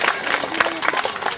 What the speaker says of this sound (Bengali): আপনারা সবাই মিলে একটু জোরে হাততালি দেবেন।